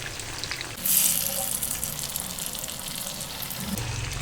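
Pumpkin batter fritters frying in a pan of oil, a steady close sizzle that swells sharply as a fresh batch drops in, then settles into an even bubbling hiss with low clatter underneath.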